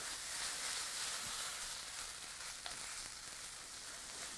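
Buffalo sauce of hot sauce and butter sizzles steadily in a pan, a soft continuous frying hiss with faint stirring scrapes and no one talking.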